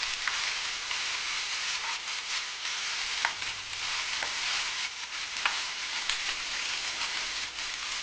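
Potato pieces frying in hot oil in a pan for a Vidarbha-style pavata bhaji, a steady dense sizzle with occasional sharper pops and crackles, close and continuous throughout with no talking.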